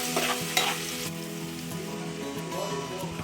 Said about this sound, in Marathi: लसणाला तेलामध्ये परतून घेऊया लसणाचा कच्चेपणा थोडा जाऊ द्यायचा आहे लसूण हलका फ्राय करायचा आहे